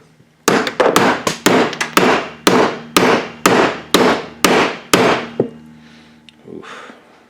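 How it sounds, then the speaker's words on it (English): Link pins on the front beam of a VW Buggy are driven in with a hammer, about ten sharp metallic blows in a steady rhythm, loud and close, followed by quieter shuffling. "Beat them in with a hammer."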